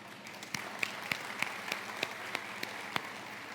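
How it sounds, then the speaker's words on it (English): An audience at a conference talk applauds in a thin, steady patter: about a dozen distinct claps at a regular pace over a faint hiss of room noise. "Let's give an applause to Aquatour to start with."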